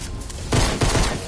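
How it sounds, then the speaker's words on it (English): A short, loud burst of video game gunfire sounds close up, with two rapid clusters of shots over a dense, harsh background of game noise. "Stop shooting me."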